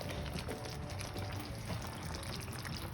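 Fried tomato sauce being poured into a pot of pozole, a faint, continuous liquid splashing and trickling for a few seconds.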